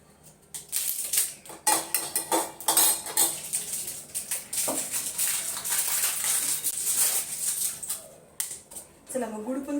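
Homemade jaggery is grated by hand, making quick rough scraping strokes in uneven bursts that ring faintly like metal, with a voice talking over parts of it.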